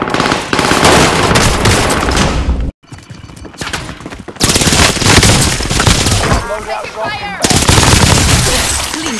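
Rapid, loud bursts of automatic gunfire from Call of Duty Warzone, with a brief drop to near silence partway through before the firing resumes. Voices and game sounds are mixed in under the shots.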